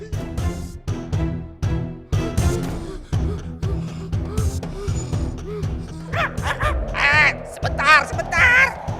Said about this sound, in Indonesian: Bos, lihat tuh bos, burungnya gede banget bos.